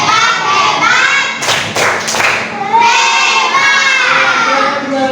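A classroom of children performs the Indonesian 'tepuk hebat' clapping chant, loud group claps and thumps with shouted voices in bursts, close and lively.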